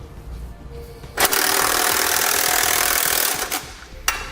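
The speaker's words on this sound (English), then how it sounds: "with a 19mm socket, we're going to tighten and then torque all of our hardware to the specifications and the instructions" A powered tool drives a 19mm socket to tighten base plate hardware on a vehicle, making a loud, close, buzzing whir that runs for about two seconds, then a few short bursts.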